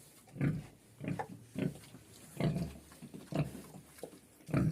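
A pig grunting in a barn, repeated short low grunts in an uneven rhythm, about seven bursts, close and fairly loud with quiet gaps between.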